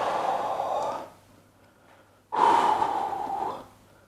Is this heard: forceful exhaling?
yes